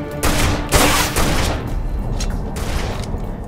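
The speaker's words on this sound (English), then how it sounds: "Getting shot from behind." Gunfire in the Tribes Ascend video game, a dense rapid volley of loud crackling shots and thuds running throughout, busiest in the first half.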